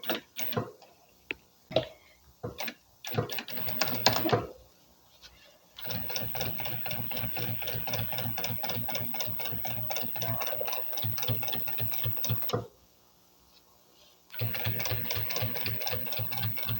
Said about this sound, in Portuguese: vou pespontar essa parte aqui. Aqui é um pesponto de acabamento